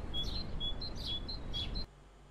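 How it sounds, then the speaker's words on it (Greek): Birds chirping in the video game Only Up, a run of bright, repeated tweets and short calls over a steady background hum, loud and close, cutting off abruptly near the end. "Αυτά τα πουλιάρια δηλαδή είναι στα αυτιά μου αυτή τη στιγμή."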